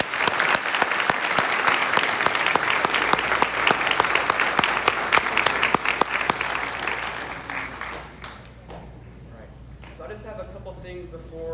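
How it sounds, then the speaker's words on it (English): Dense audience applause at a school livestream event, loud and sustained for about eight seconds before thinning into scattered claps with faint voices and a few whoops. "Can we give them a round of applause?"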